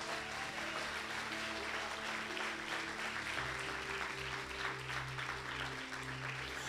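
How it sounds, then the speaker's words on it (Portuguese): A church congregation claps together in sustained, dense applause, steady and even throughout at moderate distance, with a low musical hum underneath. "Você pode aplaudir só por essa palavra."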